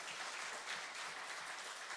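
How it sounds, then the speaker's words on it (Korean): Applause from a church congregation at an evening revival meeting in Iksan, a steady wash of clapping that stays even and fairly faint throughout, with no voices over it. "이런 명설교를 박수해 주셔야지"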